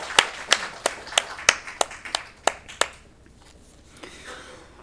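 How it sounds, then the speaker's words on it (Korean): A church congregation at an Easter Sunday morning worship service claps together in a steady rhythm, about nine sharp claps over three seconds, then falls quiet. "우리 부활하신 하나님께 영광의 박수를 올려드립시다."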